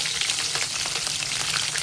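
Green chilies dropped into hot oil with mustard and cumin seeds sizzle in a pan, a close, steady crackling hiss with quick pops throughout.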